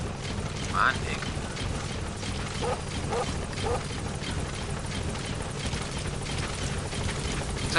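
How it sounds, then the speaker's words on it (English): A helicopter landing in Metal Gear Solid V, a steady, dense rotor roar and engine wash filling the whole stretch at even loudness, with brief scattered clatter over it. "What's up, helicopter? Come down, motherfucker."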